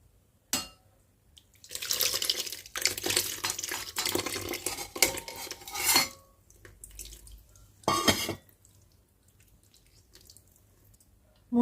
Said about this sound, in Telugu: ఇప్పుడు చింతపండు రసం పోసుకుందాము